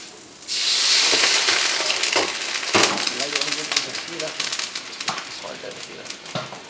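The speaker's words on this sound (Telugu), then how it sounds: "సో అవి ఆయిల్లో కొంచెం ఒక 1 సెకండ్ 2 సెకండ్ అట్లా ఫ్రై అయితే సరిపోతుంది" Garlic and vegetables hit hot oil in a café kitchen and fry briefly, giving a loud, steady broadband sizzle that flares at the start and crackles on with scattered clatter, while people talk over it.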